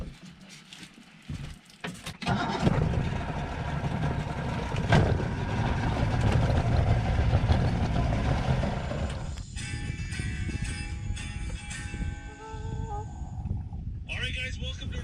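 A fishing boat motor on a river cranks to life and runs upstream, building from quiet clicks into a steady loud drone that wavers and changes pitch, with talk heard over parts of it.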